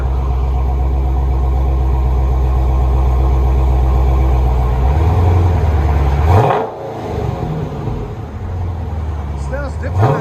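A Dodge Challenger Scat Pack with Vibrant mufflers and valves cut out rumbles loudly at idle, a steady deep exhaust burble close by that briefly dips before settling back, with some speech-like sound.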